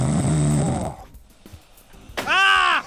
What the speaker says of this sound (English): if your partner snores like that, how the hell do you stop them?